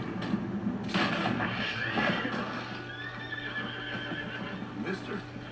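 Horses whinny and hooves clip-clop in a video game scene, with a sharp neigh up front and a loud burst near the start, mixed with background game voices and a faint distant bang.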